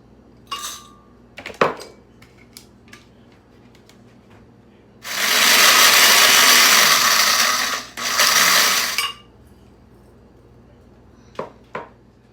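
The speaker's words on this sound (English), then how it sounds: "The first thing, I'm gonna blend the dry shrimp." A blender grinds dry shrimp for a Lao sukiyaki sauce in a home kitchen, running loud for about three seconds, briefly stopping, then roaring again, with scattered clinks and handling clatter before and after.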